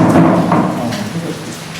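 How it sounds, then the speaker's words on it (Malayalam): Heavy rain pours down outside a house, a dense, steady hiss that fills the whole short stretch at close range with no other clear sounds. "കണ്ടോ, നല്ല മഴയുണ്ട്."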